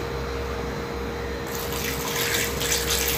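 Water runs into homemade tomato juice: a steady stream that swells into a louder, brighter splash partway through, close and alone.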